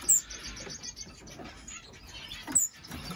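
Small birds in an outdoor aviary give a few faint high chirps, with a clearer one at the start and another midway, over a low, quiet outdoor background.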